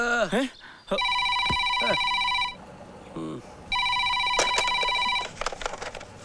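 A telephone rings out during a call home, heard as two long bursts of trilling ring separated by a pause, fairly loud, with voices speaking around the rings.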